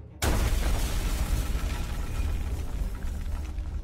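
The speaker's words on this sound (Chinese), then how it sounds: "只见房门轰然破开" In an audio drama, a door bursts open with a sudden loud crashing boom after a brief silence. A heavy rumbling roar follows and slowly fades.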